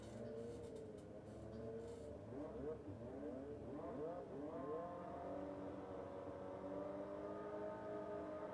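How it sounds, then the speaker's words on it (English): A nitro drag bike rips through a qualifying pass at Warwick Dragway in Australia, its harsh engine roar steady and loud for the whole stretch, with rising and shifting pitch sweeps as it runs down the strip. "first pass of the qualifier number 2 for drag bike here at 1320 Motorsports Warwick Dragway for Nitro on the Downs"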